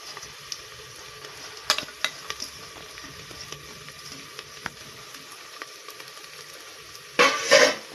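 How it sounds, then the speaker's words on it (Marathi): Browned onion and fresh coriander being sautéed in a kadhai for a chicken dish, with a soft steady sizzle, scattered light clinks of a spoon stirring against the pan, and a louder scraping stir near the end. "कोथिंबीर थोडीशी परतून घ्यायची"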